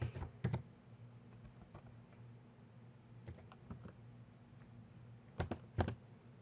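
A password is typed on a computer keyboard: quiet, close keystrokes arriving in short irregular bursts with pauses between them.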